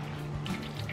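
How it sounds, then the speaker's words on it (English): Tap water runs steadily into a sink while hands are rinsed, a continuous close splashing hiss of about a second with no voices. "And then I'm gonna rinse my hands off."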